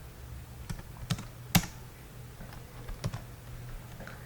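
Java code goes in on a computer keyboard as a handful of sparse, distinct key clicks, one sharper tap standing out, close by in a quiet room with no talk.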